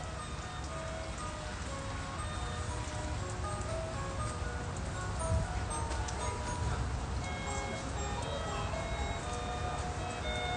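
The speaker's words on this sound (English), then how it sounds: "it's the automated music that's on the decorations" Tinkling automated music from Christmas light decorations at a Brooklyn neighborhood holiday display, playing steadily at moderate volume among outdoor street noise and passing traffic.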